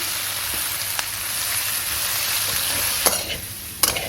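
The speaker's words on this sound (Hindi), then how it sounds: "अब हम इसे अच्छी तरह से मिक्स करेंगे।" Chopped capsicum and half a teaspoon of salt stirred in a hot pan, giving a steady hissing sizzle with a few sharp spoon scrapes near the end, close and alone.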